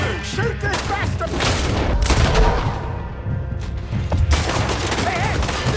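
Rapid gunfire bursts and booms crack through a Red Dead Redemption 2 shootout, loud and dense, with shouting voices mixed in.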